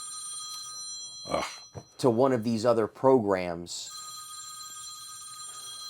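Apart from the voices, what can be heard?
phone ringing during interview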